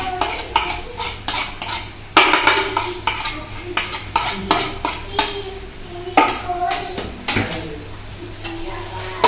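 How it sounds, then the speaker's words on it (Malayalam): Boiled, mashed potato is stirred into sautéed onions in a pan for samosa filling, with repeated close scraping and clacking of a spoon against the pan over a faint sizzle. "നല്ല രീതിയിൽ ഇളക്കി കൊടുക്കണം."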